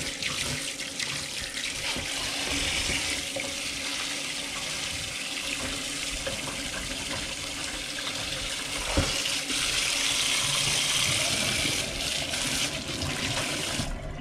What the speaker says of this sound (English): just run them under the cold tap.